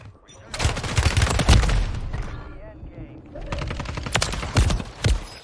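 Rapid bursts of gunfire in the Call of Duty map Fortune's Keep, heavy overlapping automatic shots with thuds, loud and close, stopping briefly mid-way before resuming, with a voice talking over the shooting.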